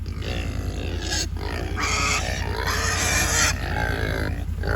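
Cows grunt and low in steady, rough bursts close by, a continuous run of throaty calls with short pauses between them and a low hum underneath.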